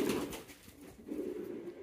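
A pet pigeon coos softly and close by, giving two low, rolling coos separated by a short pause, with no other voices.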